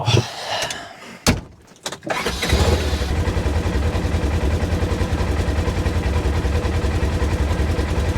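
Idle of a 2022 Polaris RZR Trail S side-by-side with the 1000 engine, a steady, even low rumble after a few brief knocks and clunks at the start, continuous and fairly loud with no talk over it.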